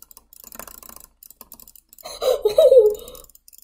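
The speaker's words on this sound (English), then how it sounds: "I'm clicking so fast that the game can't even." Rapid jitterclicking on a mouse during the video game Jumper Dash: quick, dense bursts of light clicks fill the first half, then a brief voice rises over them before a few scattered clicks trail off.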